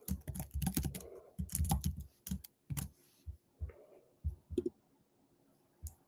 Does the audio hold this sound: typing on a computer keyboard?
yes